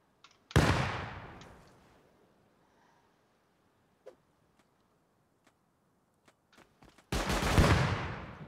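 Video game turret opening fire, two loud bursts of rapid gunfire, one at the start and one near the end, with scattered faint clicks and ticks in the quiet gap between.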